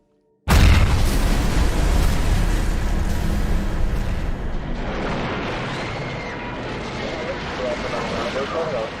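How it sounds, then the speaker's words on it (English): A 15-pound bomb goes off inside the Temple of Peace in Wales, a sudden loud blast followed by a long rumbling roar that slowly fades over several seconds, with no voices. "a 15-pound bomb exploded in the Temple of Peace"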